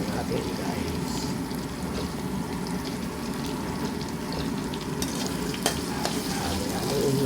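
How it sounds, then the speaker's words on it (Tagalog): Garlic and onion fry in a pan with a steady, close sizzle throughout, with occasional scrapes and taps of a utensil stirring, and no clear talk over it. "ilagay natin ang ating bawang guys, sibuyas at saka bawang guys"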